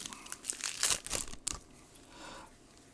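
Wrapped packs of game cards being torn open: a quick burst of sharp crinkling and tearing plastic, several close rustles in the first second and a half, then fading to quieter scattered crackles, no voices.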